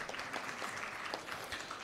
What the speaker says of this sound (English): So you can clap for yourself.